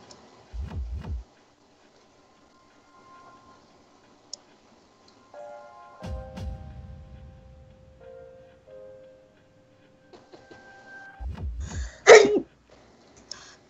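A person sneezes three times, spaced apart, each a short sharp burst, with quiet pauses and faint ticking between them.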